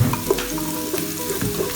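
Garlic, onion and ginger sizzle and fry in a hot pan for a Kapampangan papaitan, a steady close crackle with a few stirring scrapes and clinks.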